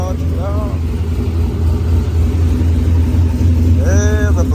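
A brand-new pickup truck's engine runs steadily in a low, constant rumble throughout, close by, with voices talking over it near the start and again near the end.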